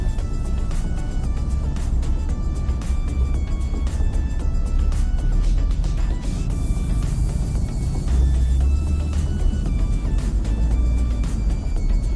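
Steady road traffic on inbound Rama 2 Road at Bang Kradi, Samae Dam, with trucks and cars, heard from a moving vehicle: continuous low engine rumble and tyre noise, loud and unbroken throughout, with no talking.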